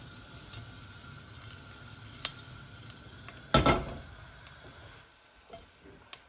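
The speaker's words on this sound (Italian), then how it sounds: "Facciamo imbiondire l'aglio." Garlic cloves frying in a dry pan with no oil, a faint steady sizzle with a sharp burst of crackle midway as something is stirred or moved, then quieter.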